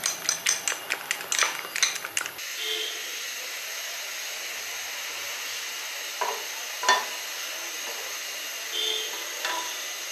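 Three eggs frying in a small frying pan, a steady soft sizzle running throughout after a burst of sharp clatter and knocks at the start, with a few faint clinks later.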